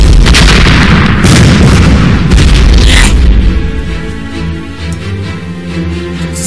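Artillery shells boom in a rapid barrage of heavy blasts from a war drama, loud and continuous at first, then giving way to a lower rumbling aftermath.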